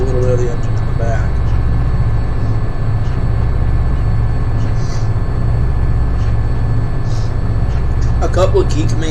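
Diesel locomotive engine of a BNSF manifest freight in the Open Rails train simulator game, a steady low rumbling drone with a pulsing throb, heard throughout beneath someone talking.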